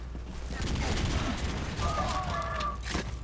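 A pistol firing in bursts in the video game Turok, with dense, loud, repeated gunfire among other game sounds and a steady background rumble.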